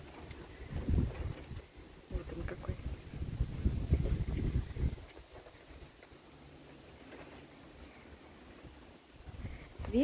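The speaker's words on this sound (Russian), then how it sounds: "Ветер у нас." Gusty wind rushes and buffets the microphone on a terrace at a garden plot in Germany, louder at first, then settling into a softer steady blow with occasional low thumps.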